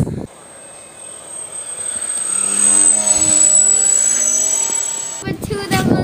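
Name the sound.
RCDOX Winged Dragon RC plane motors running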